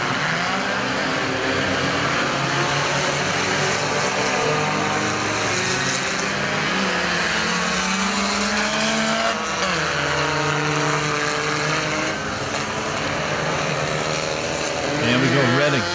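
Four-cylinder race cars roar around Perris Auto Speedway during a night main event, engines droning continuously and loudly with shifting pitch as cars pass, amid a dense wash of track noise and a commentator talking over it.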